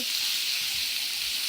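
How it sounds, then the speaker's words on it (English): Pork belly and noodles for pancit, miki bihon style, fry in a pan with a steady, close hiss and crackle of oil that holds even across the whole moment, with no talking. "I'm just going to fry it a little"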